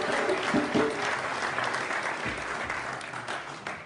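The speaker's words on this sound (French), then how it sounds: "Ça mérite une acclamation quand même." A church congregation at a Sunday worship service in Paris breaks into sustained applause, a dense continuous wash of many hands clapping close and loud, with a few faint voices mixed in.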